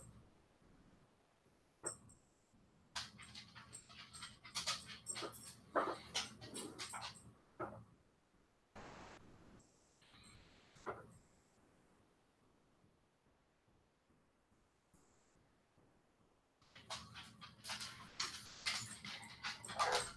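Several dogs pant and whimper close by in bursts, with louder stretches at the start and end separated by a quieter pause.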